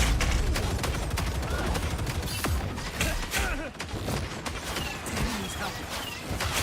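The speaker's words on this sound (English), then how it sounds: "This is real firepower! Some sort of turret." Turret gunfire in the video game Marvel Rivals: dense, continuous rapid shots and thumps fill the scene at steady loudness, with whooshing effects and faint voices mixed in.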